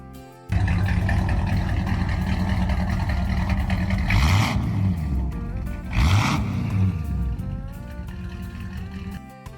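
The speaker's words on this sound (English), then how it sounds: "a dual exhaust system provides a great sound" Classic muscle car with BF Goodrich radial tires and a dual exhaust rumbles steadily at close range, a loud deep engine note with two surges of revving near the middle, no talk.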